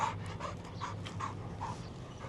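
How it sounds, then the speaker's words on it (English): A dog pants rapidly at close range while being trained in a park, a steady rhythm of breathy huffs over a low background hum. "So This is Brewer. This is my dog."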